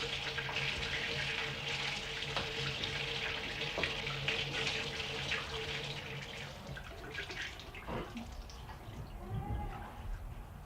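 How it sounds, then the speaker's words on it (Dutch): Water runs steadily from a tap into a basin in a bathroom, a continuous close splashing hiss with a few drips and clinks near the end. "het water van die kraan binnen van die bak loopt hier in de badkamer"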